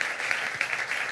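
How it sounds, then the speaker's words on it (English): A live radio show audience gives sustained applause, a dense, steady wash of many hands clapping continuously at fairly close range. "give them another big round of applause"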